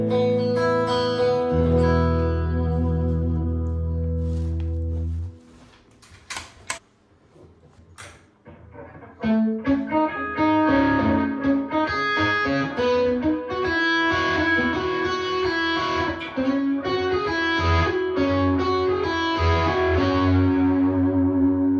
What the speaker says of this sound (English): switching channels on this Mesa Boogie Mark IV, and you're hearing it through the aux